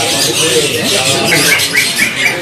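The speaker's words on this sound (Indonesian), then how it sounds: "sedang berbunyi dari murai yang pastolan" A magpie robin sings in short, bright whistled phrases, moderately close, while a person talks over the birdsong.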